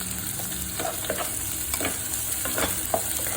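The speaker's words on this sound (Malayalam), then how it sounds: "സവാള ഇട്ടിട്ട് സവാള ഇട്ട് വഴറ്റണം." Sliced onion sautéing in a pan for prawn thiyal, giving a steady close sizzle broken by occasional scraping stir strokes, with no voices.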